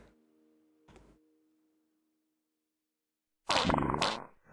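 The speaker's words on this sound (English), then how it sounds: "we now have fart sounds." A fart sound effect added to a stream chat plays as one loud, buzzy burst near the end, after a few soft tones and clicks and a stretch of silence, with no talking.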